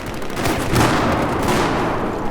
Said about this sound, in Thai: โอ้โหระเบิด ระเบิดอีกแล้ว